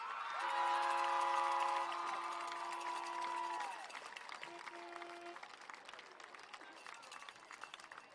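Applause and crowd noise greet the crowning of the homecoming queen at a Martinsville vs. Franklin Community high school event, loud and sustained for several seconds, then fading into lighter scattered clapping while sustained tones ring over it.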